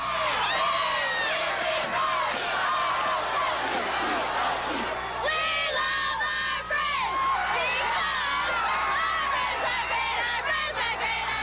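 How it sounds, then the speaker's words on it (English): Crowd cheering at a 1984 high school basketball tournament semifinal, Johnson vs Bloomington Kennedy, a dense continuous roar of many voices with shouts and whoops, loud and sustained throughout. "Throughout every game at the tournament, there's a noticeable dull roar. The correct term for it is cheering"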